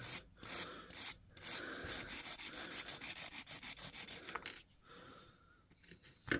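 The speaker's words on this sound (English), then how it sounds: "So I'm going to give them a rub with this Amtech diamond file here." Close, rhythmic rasping strokes of a diamond file rubbing the electrical contacts of a DeWalt DW088 red laser level, in quick repeated passes with a short pause before a few final rubs.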